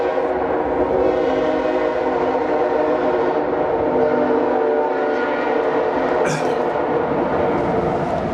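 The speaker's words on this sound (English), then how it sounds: "Did that sound like a train to you?" A train rumbles past loudly and continuously, with clattering wheels and a steady drone, and a brief horn-like tone near the end.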